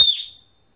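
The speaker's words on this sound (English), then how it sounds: "So this is the V29, regular V29 whistle." A single sharp, high-pitched blast from a 3D-printed PLA+ V29 whistle that rings briefly and then cuts off, leaving silence.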